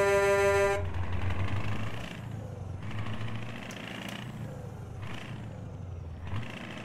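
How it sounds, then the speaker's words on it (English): A Scania truck's air horn in Euro Truck Simulator 2 gives one loud, harmonic blast at the start, then gives way to a low engine drone with a few short hissing bursts that recall air brakes. "can I sound the air horn?"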